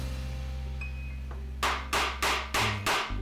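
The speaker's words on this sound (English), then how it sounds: "Then I'll go to the chisel to bring in right up to that line." A chisel struck with a mallet chops the waste of a half blind dovetail in a wooden drawer board for an old dresser, five sharp, loud blows spaced about every third of a second after a quiet lead-in.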